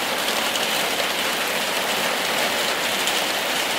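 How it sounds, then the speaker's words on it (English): Rain falls steadily in a dense, even wash of hiss with no pauses or voices. "it just started raining"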